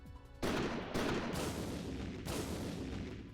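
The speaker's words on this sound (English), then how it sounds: "Van Helsing's gun goes off, setting off a small explosion all around the attacker" A gunshot from Van Helsing's gun in the game Code Realize Guardian of Rebirth sets off a small explosion around an attacker, heard as loud repeated booming bursts of gunfire with no talk.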